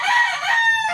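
A rooster crows amid chickens in a backyard farm flock kept for breeding gamefowl, the drawn-out call ringing loud and near over a second faint crow and soft clucking.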